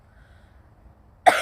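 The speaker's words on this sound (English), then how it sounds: "Why are you coughing?" Near the end, after a stretch of quiet background noise, a person gives a single loud, close cough.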